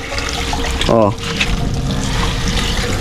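Water pumped through a repaired hand pump for dishwashing, a steady flowing trickle with a brief voice in the middle.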